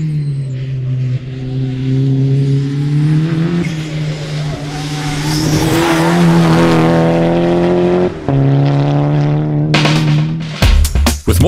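Class T Ferodo VW Golf GTI race car with over 200 kW at the wheels, its engine holding a loud steady drone that shifts pitch through gear changes, ending in sharp bursts and squeals.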